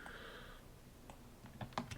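A computer keyboard gets a few quiet, close keystrokes and clicks near the end of a short stretch during a copy-and-paste in music software, with faint background hum before them.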